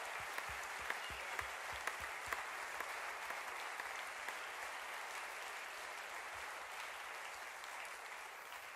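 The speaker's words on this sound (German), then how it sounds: "Applaus!" Audience applause at a live stage show, a steady wash of clapping with occasional sharp nearby claps, slowly easing toward the end.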